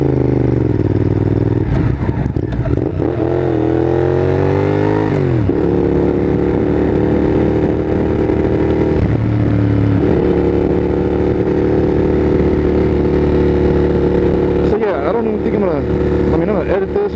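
A motorcycle being ridden, its engine droning loudly and continuously as it rises through revs and drops between gear changes, with wind noise throughout.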